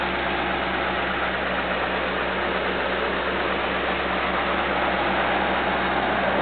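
A 2003 Maserati GT with a Ferrari engine idles in a steady, even drone, with no change in pitch or level throughout.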